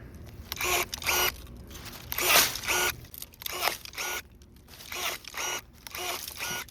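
A cordless pruner snaps through thin green branches in a series of about nine short, sharp cutting bursts, each with a quick motor whir and crisp snip, close and fairly loud.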